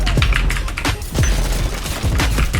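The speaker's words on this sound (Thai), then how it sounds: "ทำไมพี่บอทยิงหนักจังวะ" An enemy bot fires hard at close range in the shooter game Delta Force, a loud, continuous spray of rapid automatic shots with sharp repeated bursts and no talking.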